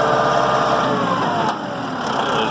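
A Massey Ferguson 2705e tractor engine running nearby, a steady loud mid-pitched diesel drone with a slight dip in level partway through.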